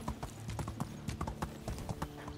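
Horse hooves clip-clop at a steady trotting rhythm while riding in the medieval video game Medieval Dynasty, close and clear with no talk over them.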